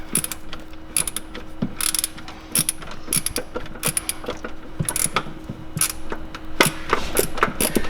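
A ratchet wrench clicks in rapid bursts while loosening a starter motor bolt on a Toyota Hilux with the 2.7L 2TR engine, a close, crisp mechanical clatter of repeated pawl ticks with brief pauses between strokes.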